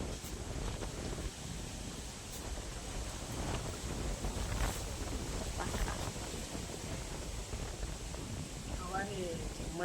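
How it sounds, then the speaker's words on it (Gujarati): Strong storm wind roaring continuously and buffeting the microphone outdoors, a dense rushing noise with faint voices underneath. "વાવાઝોડું મસ્ત પવન વધ્યો"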